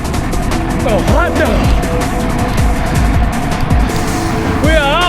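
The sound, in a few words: convoy of sports cars driving past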